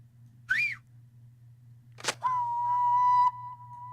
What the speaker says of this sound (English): This would be a good place to use Calithan's whistle.